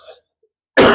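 A single sharp cough bursts out near the microphone after a faint breathy sound and a pause of silence.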